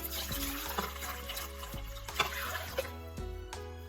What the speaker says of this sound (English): we'll add 2 cups of water.